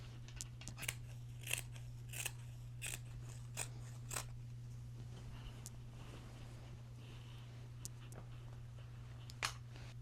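Scissors snip through a crochet blanket in a quiet room, with a run of crisp cuts in quick succession that thin out into a few spaced snips, over a low steady hum.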